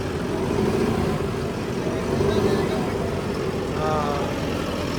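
Tractor engine running with a super seeder attached for sowing wheat, a steady loud diesel drone that rises slightly, with someone talking over it.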